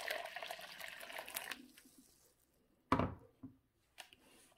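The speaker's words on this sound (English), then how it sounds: "I will be mixing this together now with some warm water" Warm water poured into yeast and flour for Nigerian puff puff: a splashy, hissing pour for about a second and a half that fades out, followed by a few short knocks and clatters close by.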